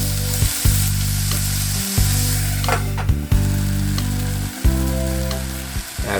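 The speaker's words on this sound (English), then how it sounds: "And let that saute to soften the tomato skin." Tomatoes sauté in a pot for one-pot shrimp pasta, giving a steady close sizzle with brief stirring clatters and a continuous low hum, and no talk.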